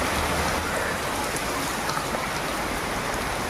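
Steady rain pours down without a break, a dense, even hiss of drops hitting surfaces close by, with no voices over it.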